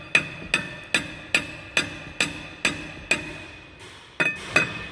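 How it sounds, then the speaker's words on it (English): A hammer repeatedly taps a brake rotor to free it from the rear hub of a 2009 Toyota Camry Hybrid: about a dozen sharp metallic strikes in a steady rhythm, with a brief pause before the last few blows. "keep tapping it and pulling on it. It's going to come right off."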